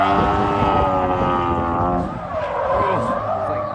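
A car drifting on a track without the handbrake, its engine screaming at high revs with shifting pitch and tire squeal layered in, loud and continuous for a few seconds.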